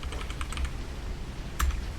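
Close keyboard typing while spelling words in the video game Cryptmaster, a quick run of light key clicks with a sharper tap near the end, no speech.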